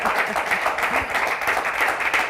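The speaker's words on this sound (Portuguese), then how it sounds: "Um aplauso para ela." A studio audience on a Portuguese morning TV show applauds steadily, a loud continuous wash of clapping lasting the whole moment.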